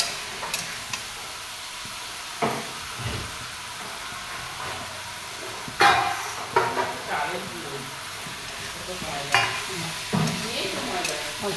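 Paneer is sautéed and stirred in a pan in a home kitchen: a soft sizzle under intermittent scraping stirs, with occasional clatter.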